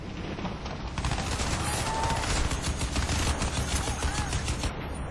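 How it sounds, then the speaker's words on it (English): Gunfire in the video game Crysis 2, sustained rapid automatic shooting with dense overlapping shots and booms, loud and continuous for about five seconds. "Incoming fire!"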